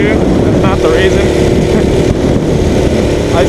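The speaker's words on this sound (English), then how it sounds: "this is my mini bike" A mini bike's small engine runs loud and close with a steady buzzing drone, its pitch wavering slightly and continuous throughout.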